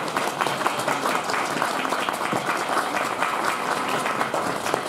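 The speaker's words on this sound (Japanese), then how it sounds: "皆様今一度大きな拍手をお願いいたします" An audience claps loudly after a maiko dance offering at Yasaka Shrine in Kyoto, a close, full burst of steady applause lasting about five seconds.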